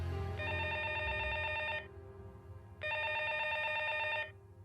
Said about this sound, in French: le téléphone sonne dans le vide